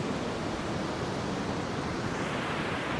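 Ocean surf rolling onto the beach at Port Aransas, a steady broadband wash of breaking waves that stays loud and continuous throughout with no voices.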